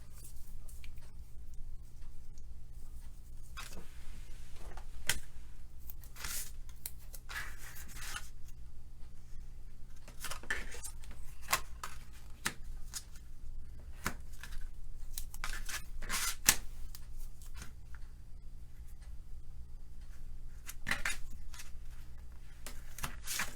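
A blade cuts card stock along a straight edge for a paper treat box, producing scattered close scraping strokes and soft taps over a quiet room, with no talking.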